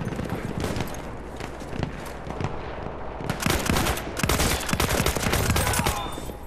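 Battlefield 1 gunfight in full swing, with rapid bursts of automatic fire and sharp single shots crackling close and loud, swelling into dense overlapping volleys toward the end.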